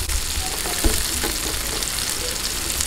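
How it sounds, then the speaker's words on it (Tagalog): Onions sautéing in a pan for Filipino kinamatisang bangus (milkfish stew with tomatoes): a steady, close, broadband frying sizzle that runs throughout with a few small stirring clicks, no talking. "hintayin lang po natin lumambot yung sibuyas bago natin ilagay yung"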